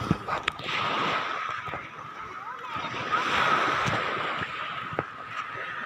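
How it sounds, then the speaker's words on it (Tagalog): Strong sea waves at Kiumang rush and surge with wind buffeting the microphone, a broad swelling roar rising and falling under occasional voices. "Ang pwerteng dagat sa Kiumang."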